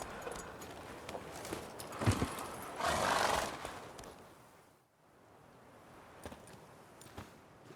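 The horse Roach moving in The Witcher: a soft neigh and snort over low hoof clatter and rustling ambience, moderately close, easing off into quieter background before faint steps resume.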